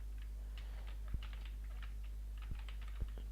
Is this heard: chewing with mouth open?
no